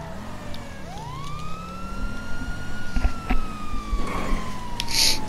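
Police car sirens wailing in GTA 5, rising and falling sweeps layered over engine rumble during a chase, loud and close with occasional crashes and thumps.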